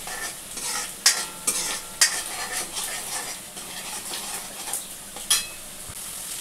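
Masala with ginger garlic paste fries in a home kitchen pan, a soft continuous sizzle punctuated by several metallic spoon clinks and scrapes against the pan, close by, with no speech.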